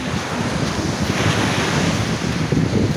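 Sea waves wash against the shore in a steady, loud surf roar, mixed with wind buffeting the microphone, with no voices.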